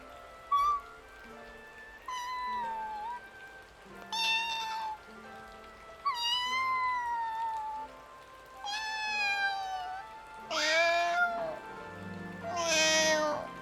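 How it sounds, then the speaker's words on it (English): A cat meows repeatedly, about six drawn-out, wavering meows spaced a second or two apart, the last few louder and more plaintive. "A sad meow?"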